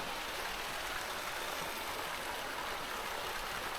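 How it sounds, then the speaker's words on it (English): A jungle river in Bohol rushes steadily below, a constant broadband wash of flowing water with no breaks, fairly loud and unvarying throughout. "Oh, there's a river down there."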